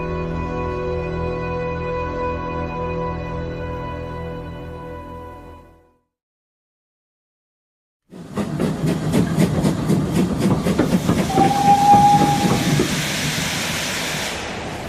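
Radio-drama effect of a train pulling into a station: a steady rumbling tone that fades into a short silence, then a loud, near bed of clattering wheels and hissing steam with a brief whistle-like squeal.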